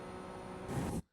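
A Ferrari 296 Challenge engine in iRacing revs hard through the gears with a steady, dense roar that swells louder, then cuts off abruptly.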